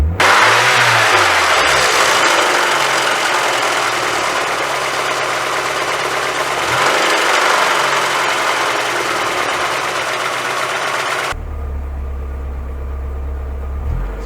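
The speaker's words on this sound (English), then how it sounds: "Now it's revving smoothly, like it should be." A car engine with a faulty ignition coil revs steadily and loudly for about eleven seconds, rising and falling slightly, then drops to a low rough idle.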